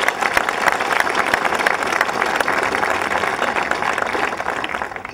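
Steady applause from an audience at a Westchester gathering, dense and sustained clapping throughout with no break.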